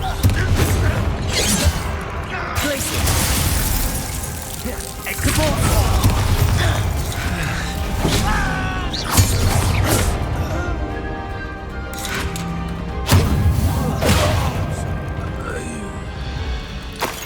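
Confringo fire spells blasting in the Hogwarts Legacy video game, a run of booming impacts and crashes in a tunnel battle against Ranrok's army, recurring every few seconds amid game music and talk.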